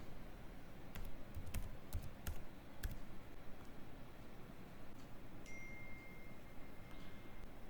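Light keystrokes tap out a phone number on a computer keyboard for an online registration form, a short burst of quiet, closely spaced clicks early on before the room falls to near silence.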